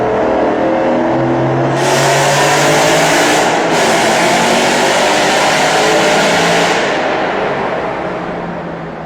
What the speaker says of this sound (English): The Hemi burble is intoxicating.